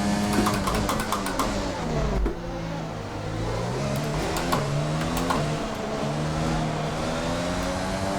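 An F1 race car engine from F1 2020 screams at high revs, pitch climbing and dropping through gear changes, with brief tire squeal as the rear slides out of corners.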